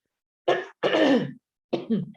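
Three rough, throaty bursts of someone clearing their throat, close up, with short pauses between them and no talking.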